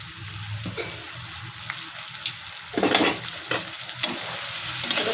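Chicken fries with ginger and garlic in an oiled pan. The sizzle is steady and close, and a few louder stirring scrapes break through it midway.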